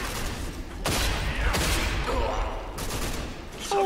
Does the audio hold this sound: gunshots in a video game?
yes